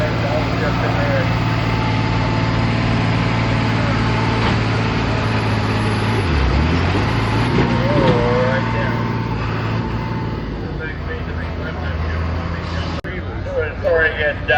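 A tractor engine roars steadily at a tractor pull, loud and continuous as it strains under load, with pitch shifts as it downshifts, while an announcer talks over it.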